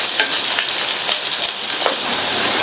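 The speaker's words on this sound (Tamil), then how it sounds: "1/4 கப் அளவுக்கு பொடியா கட் பண்ண வெங்காயம் எல்லாத்தையும் வதக்கி விட்டுக்கலாம்." Chopped onions, garlic, chillies and curry leaves sautéing in a pan for a vegetable poriyal, a steady loud sizzle and crackle of frying with a few soft stirring scrapes, close and continuous with no voices.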